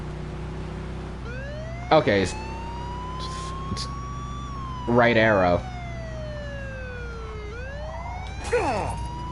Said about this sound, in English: I'm turning on the siren.